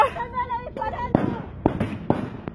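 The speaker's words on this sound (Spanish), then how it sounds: "¡Hay niños y los niños se están arrancando porque Carabinero está tirando lagrimógenas!" Police firing tear gas shots near a school in the Temucuicui community, Araucanía, Chile: several sharp bangs spaced about half a second apart, loud and close, with people shouting over them.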